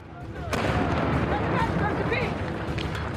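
Cannon fire in a dramatized Revolutionary War battle bursts in as one sudden, loud boom, followed by a sustained rumbling roar with crackling and muffled shouts underneath.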